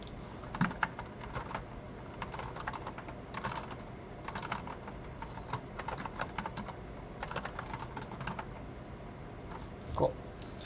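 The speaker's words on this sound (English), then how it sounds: "Okay, just keyboard test." Fast, irregular typing on a computer keyboard while working on a Django coding project, close and clear, with bursts of key clicks and brief pauses, no talking.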